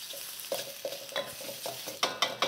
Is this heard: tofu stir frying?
yes